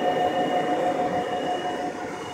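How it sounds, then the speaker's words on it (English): Loud cooling fan on 200-watt solar power equipment, a steady close whirring drone with a constant tonal hum running throughout, no voices. "Somebody asked me how loud the fan is on this. It's pretty loud."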